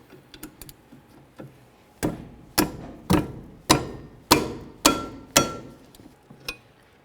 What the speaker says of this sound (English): let's continue on by removing this slider bolt